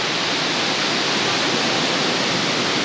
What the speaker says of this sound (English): I guess we saw this waterfall yesterday from the cable cars